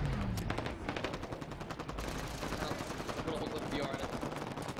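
Rapid bursts of automatic gunfire in a Halo Big Team Battle match, crackling in dense, quick volleys at low volume with brief pauses between bursts.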